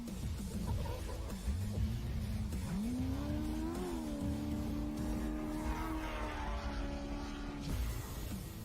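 Class 1 off-road race cars at the 2019 Baja 500 climbing toward the summit, engines revving and rising in pitch as they accelerate past, heard over steady outdoor rumble with no talk.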